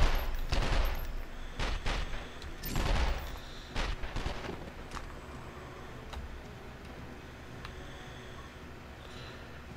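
Gunfire in 24: The Game on PlayStation 2 comes in several loud, sharp bursts over the first few seconds, then fades to a quieter background with a few scattered faint cracks.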